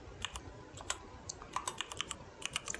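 Fast, irregular clicking of keys on a computer keyboard as C code is typed, light and close, with clustered bursts and short pauses between them and no voices.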